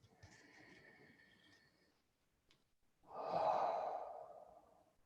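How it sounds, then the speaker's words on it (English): A slow, deep breath in through the nose, then a long, louder exhale through the mouth, as in a guided relaxation exercise; a soft speaking voice comes first. "take a deep breath through your nose, and exhale through your mouth"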